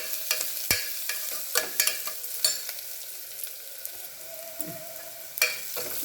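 Onions sauté with a little fine salt in a pan for cauliflower kurma, a close hiss broken by repeated sharp spatula scrapes and knocks against the pan, with no voices.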